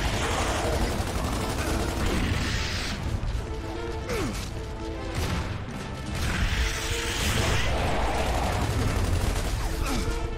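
Rapid gunfire crackles through a Gears of War 2 firefight, with dense overlapping bursts, sharp cracks and metallic clatter that stay loud and nearly continuous from start to finish.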